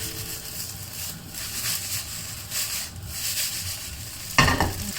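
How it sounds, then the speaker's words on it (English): Laksa fried rice with egg is stirred and tossed in a hot pan, giving a soft steady sizzle under scraping and rustling, and a brief louder clatter near the end. "Frying fried rice, you need a little bit of patience also"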